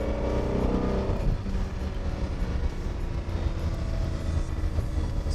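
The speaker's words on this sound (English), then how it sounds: "that sound from the V12, so intoxicating" A 1980 Lamborghini Countach's V12 engine drones steadily and loud while the car drives, a continuous low rumble with a rising tonal note early on and road noise underneath.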